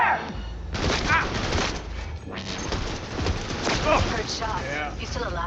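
Dense gunfire and explosions in the video game Cyberpunk 2077, a loud continuous barrage with people talking over it.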